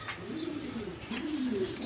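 Pigeons coo softly and repeatedly at close range, the low rolling calls overlapping in a continuous murmur among a pair of Mili-coloured pigeons.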